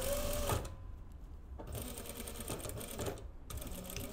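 A sewing machine runs in steady stitching bursts with brief pauses while sewing the zipper of a jacket, close and clear with no talk.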